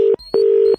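Telephone tone after a prank call is hung up: two steady electronic beeps, one short and one longer, with a brief gap between them, loud and clear with no talking.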